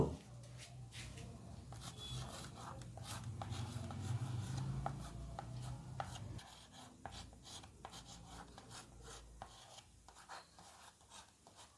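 A pen scratches and rubs across paper as Bengali conjunct letters are handwritten. The strokes are quiet and close, coming in short irregular bursts that continue throughout.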